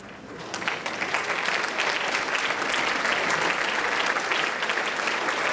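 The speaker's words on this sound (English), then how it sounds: "please stand up and give them a round of applause if you went here in the past" Sustained applause from a school honors night audience, with alumni standing to clap, a dense steady roar of many hands that holds loud from start to finish.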